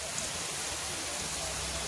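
Heavy monsoon rain pours in a hilly region where people are out cutting grass, a dense steady hiss of rainfall on surfaces that fills the whole moment without a break, with faint talk beneath it.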